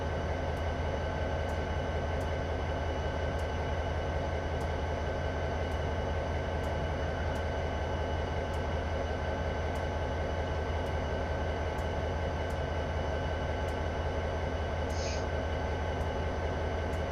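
A BNSF SD70MAC diesel locomotive on Horseshoe Curve in a train simulator gives a steady, dense rumble with a constant engine drone throughout. Faint periodic clicks sit above it, and a voice is heard over the hum.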